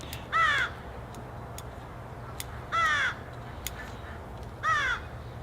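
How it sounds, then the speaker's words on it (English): Crows caw three times, each a short cluster of harsh, rasping calls spaced about two seconds apart. They sound moderately distant over a quiet, low background hum. "I have a lot of crows in this area"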